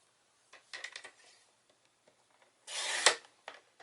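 Cardstock for an easel card is cut in half with a short scrape at the start, then a louder, longer slicing sweep a moment later, close and quiet with no talk.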